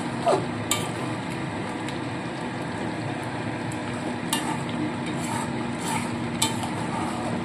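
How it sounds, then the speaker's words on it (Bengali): Chicken do pyaza being stirred in a pan, a steady sizzle of frying with scraping spoon strokes and a few sharp clinks against the metal, continuous and close with no talking. "দেখুন সমস্ত মিশিয়ে দিয়েছি।"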